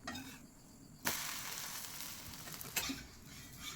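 Green gram (moong) dosa frying in a little oil on a hot pan, a steady close sizzle with two sharper crackling bursts, no voices.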